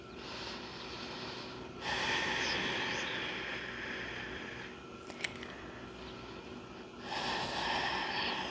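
Slow, deep breaths during a gentle yoga session, each long airy inhale or exhale rising and falling in steady waves, close and fairly quiet with a brief click midway.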